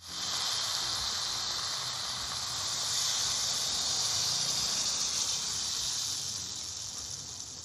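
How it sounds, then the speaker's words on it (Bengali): Water is poured into a pan of frying Bengali shukto vegetables, setting off a loud, continuous steaming hiss and sizzle that holds steady for several seconds and then eases slightly. "এবার জল দেব।"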